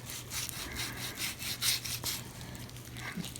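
A knife trims tough fat from a beef brisket, giving close, scratchy rasping and rubbing strokes that repeat in a steady rhythm over a low background hum.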